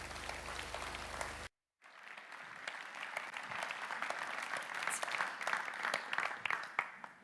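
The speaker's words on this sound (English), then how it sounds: "would you actually give the team a round of applause because they've worked really hard?" A church congregation claps for the worship team, starting after a brief cut and building into steady, fairly quiet applause that swells slightly toward the end.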